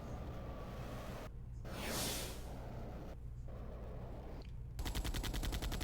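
Gunfire in Capcom's game Fox Hunt, sustained rapid automatic shots rattling steadily under a constant game hum, broken by a few short gaps, moderately loud.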